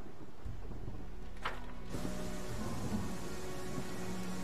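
Rain falls in the fantasy role-playing game Pathfinder: Kingmaker as a steady hiss of downpour, broken early by a sharp roll of thunder before the rainfall continues evenly.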